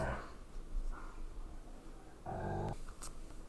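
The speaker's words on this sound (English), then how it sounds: "Man, my dogs are so loud." Dogs in a room let out low growls and short grumbling vocalizations, faint and muffled, with a louder throaty burst near the end.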